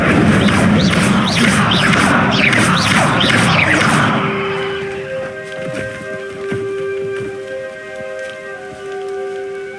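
Spell effects from the Hogwarts Legacy video game: a run of rapid whooshing, crackling bursts that sweep upward, then fade into a quieter ringing magical hum with a few soft impacts.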